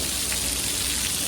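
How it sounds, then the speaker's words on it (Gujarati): Afternoon rain falls steadily in Morbi, a dense even hiss of drops on surfaces, continuous and moderately loud with no voices. "આજ બપોરે વરસાદ ચાલુ થયો છે."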